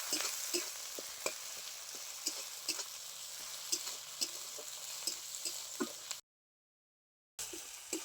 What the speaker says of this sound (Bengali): পেঁয়াজ আদা রসুন খুব ভালো করে ভেজে নিয়েছি।